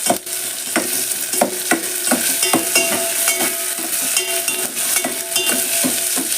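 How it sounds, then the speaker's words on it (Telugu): Grated ginger stirred into a hot cooking pan for radish dal: loud, close scraping strokes repeating in a quick, uneven rhythm over a continuous sizzle, no talking. "ఒక ఇంచు అల్లం తురుమండి మంచిగా వేసేసి కలుపుకోవడమే"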